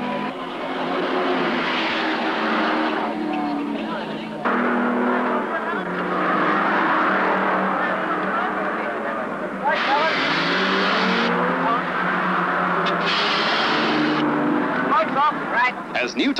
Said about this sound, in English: Des West's four-barrel Pacer flashes past to take over the lead.